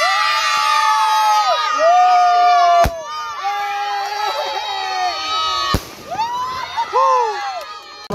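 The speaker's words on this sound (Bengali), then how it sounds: "তো এখন কিন্তু আরো একটা আতশবাজি ফুটতে যাচ্ছে।" Fireworks going off on the Eid moon night (Chand Raat): two sharp, loud bangs a few seconds apart amid excited shouting and cheering from a nearby group of people, including children.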